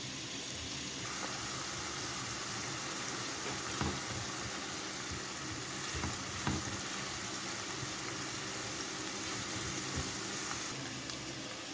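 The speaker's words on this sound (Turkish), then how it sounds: "Kızan yağımıza ince doğranmış bir soğanımızı ekliyoruz" Steady dense crackling sizzle of finely chopped onion frying in hot oil, continuous and fairly close, with a few soft clicks.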